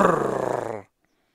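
A lion growls at night in the African bush, a single deep rumbling snarl lasting under a second, close and loud before cutting to silence.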